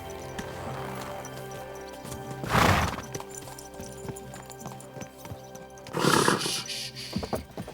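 In Kingdom Come Deliverance 2, a horse whinnies loudly twice amid steady clip-clop of hooves on ground, with ambient game sounds underneath.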